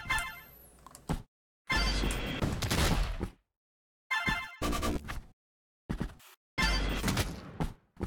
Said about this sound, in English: Oh hey, it's a missile.